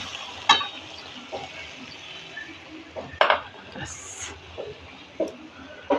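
Pabda fish sautéed and stirred in a pan, giving a steady low sizzle broken by a handful of sharp utensil clinks and scrapes.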